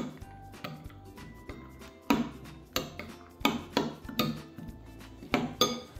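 Yogurt, walnut and celery salad ingredients are stirred in a bowl, with a spoon knocking and clinking against the bowl in an uneven rhythm of close, fairly loud taps, and no talking.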